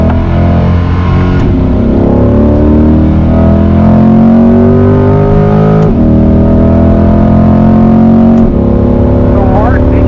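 A Corvette C8 at a performance driving school track gives a loud, steady engine drone that climbs in pitch through several gear shifts, close to the listener, with speech faintly over it.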